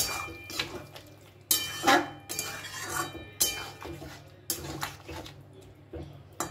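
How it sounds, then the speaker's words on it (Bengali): Chilli gobi batter is stirred with water in a bowl, giving quiet, irregular clinks and scrapes of a utensil against the dish, with soft wet mixing sounds between them. "এই বাটিটা ধুয়ে আমি জলটুকু এর মধ্যে দিয়ে দিচ্ছি। ভালো করে এটা আমি এবার মিশিয়ে নেব।"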